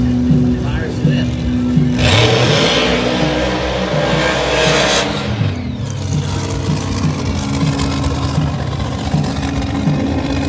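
An outlaw fuel altered drag car does a burnout at Texas Motorplex, a loud, close engine roar with tire spin that surges and peaks for about three seconds, then settles into a rough idle and revving.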